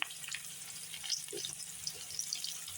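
Potato pieces with salt and turmeric being stirred and fried in a pan, a soft, steady crackle with faint scraping, quiet and close with no voices.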